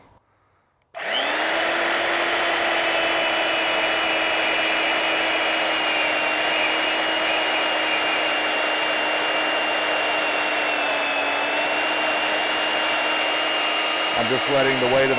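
Harbor Freight Bauer band saw running at maximum speed while cutting, a loud steady motor whine with constant blade buzz starting abruptly after a brief quiet moment, continuing without breaks until a slight change near the end.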